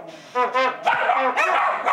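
Dogs yelp and bark in short, close, loud bursts in response to bugle playing, a quick run of overlapping yips and howl-like barks.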